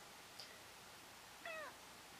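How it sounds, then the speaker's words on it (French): A pet cat gives one short, fairly faint meow in a quiet indoor room, preceded by a tiny high chirp. "Ça, c'est mon chat."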